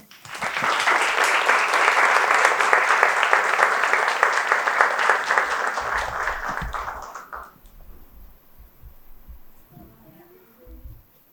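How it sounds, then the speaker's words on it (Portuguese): An audience at a Christmas faith event gives a guest speaker a loud, sustained round of applause that lasts about seven seconds, then fades into quiet room noise with faint voices. "Salva de palmas para a Bia."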